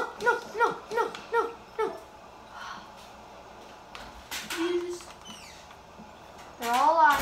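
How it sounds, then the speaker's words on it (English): Dogs in the video game Minecraft, a run of several short barks near the start, then whimpers and whines, with a person talking partway through. "You better come with me, dog."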